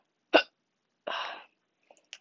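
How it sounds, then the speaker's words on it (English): A person's hiccups: one sharp, short hiccup followed by a second, longer breathy one, then faint small mouth sounds, close and alone in a quiet room. "The hiccups again."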